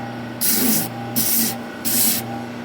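A rubber abrasive cleaning stick rubbed across clogged sandpaper gives three distinct, loud, hissing scrubbing passes, each about half a second long, separated by short pauses over a steady low hum.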